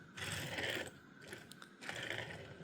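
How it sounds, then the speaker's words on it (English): A Hot Wheels Lamborghini Huracan LP 620-2 Super Trofeo toy car rolls across a surface with a noisy, rattling whir of small plastic wheels, in two close bursts separated by a brief pause. "And it makes a lot of noise, but it does roll really nice."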